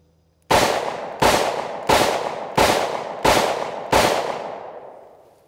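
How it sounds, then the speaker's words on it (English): Taurus 856 revolver firing Black Hills Honey Badger 38 Special rounds, six loud, sharp shots in quick, even succession, each with a decaying tail, the last echo fading out. "I'll just do a cylinder dump and see what happens here."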